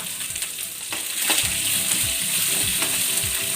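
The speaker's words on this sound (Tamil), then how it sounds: "சிம்லே வச்சுட்டு வதக்கிடுங்க" Garlic, onion and chilli sauté in a hot pan for a thoothuvalai leaf thuvaiyal, giving a steady close sizzle with a few soft stirring scrapes and no voices.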